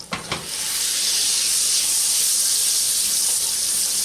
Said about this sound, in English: I'm going to take about 3 tablespoons of butter, add it into the pan